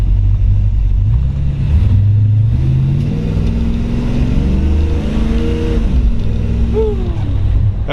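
A 1955 Chevrolet 210 Delray resto-mod's 350 V8 revs close by, its deep rumble rising and falling in a few throttle blips over a steady idle.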